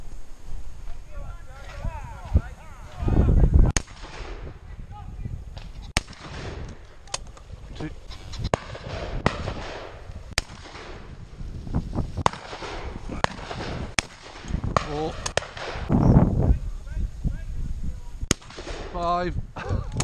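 Shotguns go off during pheasant, duck and goose shooting outdoors, a scattering of sharp, sudden bangs at irregular intervals, some near and some farther off, with people talking in between.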